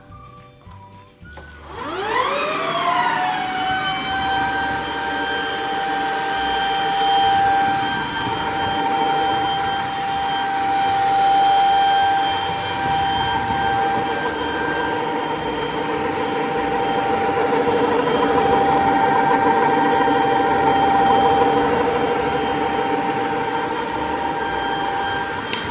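A Shark DuoClean cordless vacuum cleaner, model IF260UK, switches on and spins up with a rising whine, then holds a loud, steady high-pitched motor drone for the rest of the clip, with no talking.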